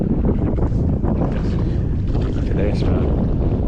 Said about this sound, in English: the wind has really picked up and we can't see a thing